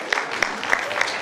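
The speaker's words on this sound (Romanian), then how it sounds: "Să primim cu aplauze!" Audience applause welcoming a young performer at a village folk traditions festival in Poduri, Bacău, a short stretch of clapping with a few distinct, evenly spaced claps.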